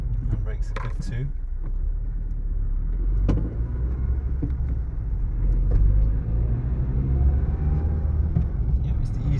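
Steady low road rumble and engine drone inside a Nissan Micra cruising on the motorway, a constant close hum with faint interior knocks and rattles; a voice may be heard faintly over it.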